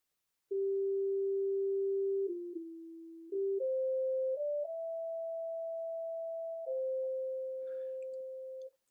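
Computer-generated pure sine tones play the melody of Glory Hallelujah slowly. A few notes are each held for a second or more, with clean steps in pitch between them, and the clip is otherwise quiet with no voices.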